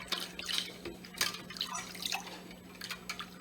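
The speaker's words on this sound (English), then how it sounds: "now the tomato is dry, so I'm going to wash it off." Water rinsing dried tomato off skin: soft, close splashes and drips come in irregular bursts, fairly quiet, with no voices.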